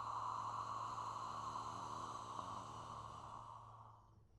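A long, breathy qigong exhale with an open "ha" fire sound, one steady airy rush held for about four seconds that slowly fades out, close to the mic with no other talk.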